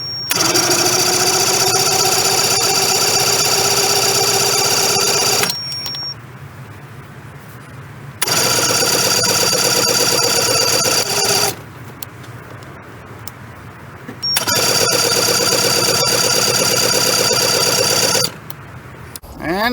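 A 2-stroke outboard motor is cranked over repeatedly without catching, three long loud bursts of whirring starter grind separated by quiet pauses, close and without speech.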